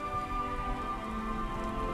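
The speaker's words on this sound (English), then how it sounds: "I know it's raining as well." Rain falls steadily outside as a soft continuous patter, under a faint tonal hum, with no one speaking.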